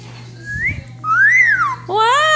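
A one-year-old girl whistles several short rising and falling tones in a row, thin and breathy but fairly close and clear, with brief gaps between the notes.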